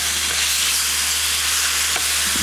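Butterflied prawns sizzling loudly in a camping pan on a cooker as they are turned, a dense continuous frying hiss with a steady low hum beneath and no talk.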